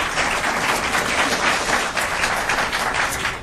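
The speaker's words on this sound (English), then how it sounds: "if we can keep the applause and anything else till the very end" An audience applauds at a 2010 congressional political debate, a dense, steady burst of clapping from many hands that carries evenly through the whole moment.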